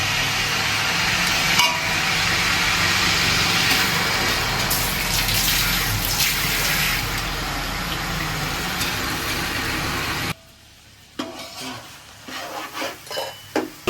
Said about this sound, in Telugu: నీళ్ళు పోస్తున్నాము